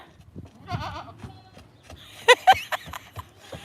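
Goats bleat a few times nearby, wavering cries mixed with scuffling and soft voices in the background.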